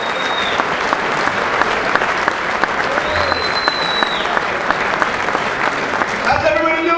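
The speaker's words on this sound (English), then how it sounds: "Give him a big round of applause." A Jersey crowd welcomes comedian Joe Piscopo onstage with loud, sustained applause and scattered cheers that fill the room throughout, with a faint voice over it near the end.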